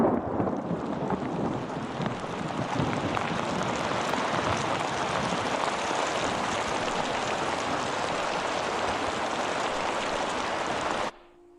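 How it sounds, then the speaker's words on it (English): Steady, dense rain pours down without a break in a stormy outdoor scene, a loud broadband wash of falling water that stops abruptly near the end. "and the rain comes"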